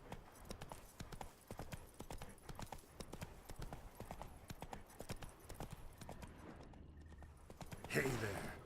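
Horse hooves trotting in The Witcher 3, a steady clip-clop rhythm running through most of the stretch at moderate loudness, ending with a brighter burst of sound near the close.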